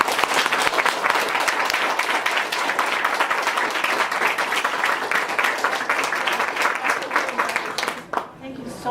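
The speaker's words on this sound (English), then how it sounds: "Can we give a round of applause?" Steady applause from a luncheon audience at a spring event on teen mental health, dense clapping filling nearly the whole stretch before cutting off abruptly near the end, with faint voices underneath.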